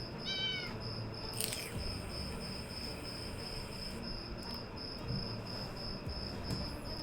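A cat meows once, briefly and faintly, near the start in the video game 60 Seconds Reatomized, over a steady background of chirping insects and a high whining tone.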